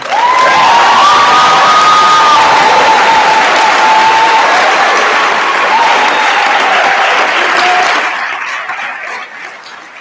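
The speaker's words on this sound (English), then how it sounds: "shall we give them another round of applause?" A large audience at a graduation ceremony breaks into loud, sustained applause with cheers and whoops, the clapping holding steady before tapering off over the final two seconds.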